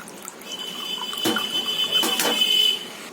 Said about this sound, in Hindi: अब जो एक्स्ट्रा पानी है इसे हम इस तरह दबा कर निकाल लेंगे।